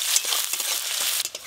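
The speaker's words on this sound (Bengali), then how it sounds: "পেঁয়াজ কুচি প্রথমে পেঁয়াজটা একটু ভালো করে ভেজে নেবো।" Chopped onion fries in hot oil in a pan with whole cumin, giving a steady close-up sizzle and hiss with a few soft stirring knocks throughout.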